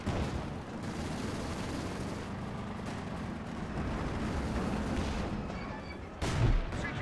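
PIAT anti-tank fire in Company of Heroes 2, heavy thuds and explosions over a constant battlefield rumble, with one sharp louder impact near the end.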